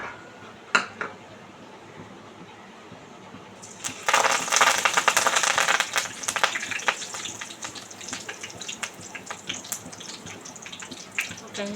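Cumin, mustard seeds and curry leaves drop into hot oil in a pan on a gas stove while making brinjal bharit: after a quiet start, a sudden loud sizzle bursts out and keeps crackling steadily, with scattered pops.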